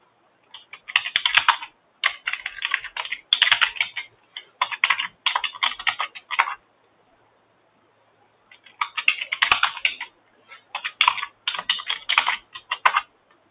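Someone types a username and password on a computer keyboard in two quick runs of close, crisp key clicks, separated by a short silence.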